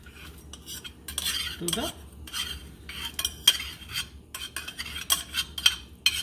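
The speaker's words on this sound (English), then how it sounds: "And so now we add the tadka" Tadka is spooned into a pot of methi rasam, with repeated metal clinks and scrapes of a spoon against the pot and faint bubbling, while a voice speaks briefly.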